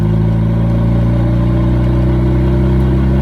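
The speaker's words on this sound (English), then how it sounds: "Just a quick little second gear pull." A car pulls in second gear, its engine a loud, close, steady drone with a strong low rumble throughout and no voices.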